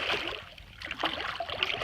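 Wading through the Little Big Econ river, about three feet deep, with flowing water sloshing and gurgling close by in irregular splashy bursts and no voices.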